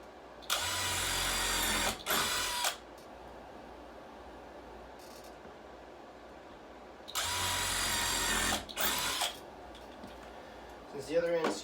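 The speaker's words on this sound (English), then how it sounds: "I'm going to go ahead and pre-drill both holes and then just screw them all in." A power drill pre-drills holes in a wooden rodent rack during a build, running in two loud, sustained bursts with short restarts, close by, separated by quieter workshop background.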